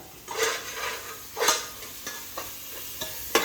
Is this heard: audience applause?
no